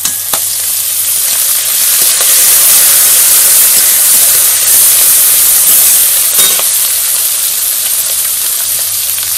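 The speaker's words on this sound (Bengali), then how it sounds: "পাঁচফোড়ন, শুকনো লঙ্কা, পেঁয়াজ কুচি, কয়েকটা কাঁকড়া দিয়ে দেব" Crabs frying in hot oil with five-spice, dried chilli and chopped onion, a loud steady sizzle that hisses without pause for the whole stretch, with faint stirring clicks and no voices.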